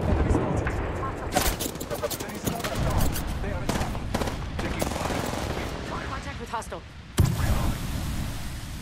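Rapid video-game gunfire in a competitive shooter, bursts of shots crackling almost continuously over a busy background, with a sharp louder burst near the end; a player talks over it.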